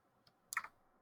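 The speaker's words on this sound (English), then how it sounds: "I'm just hitting the key on my keyboard." Keys tapped on a computer keyboard while entering a spreadsheet formula: one faint click followed by a short cluster of two or three sharper key presses, quiet and close against near silence.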